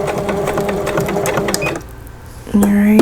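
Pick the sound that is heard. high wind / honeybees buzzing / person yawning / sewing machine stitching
sewing machine stitching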